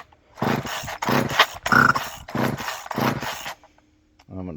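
The starter cord of a Poulan Micro XXV chainsaw is pulled with the choke off, giving four loud rasping pulls in a row, each a brief ratcheting burst, then a short pause.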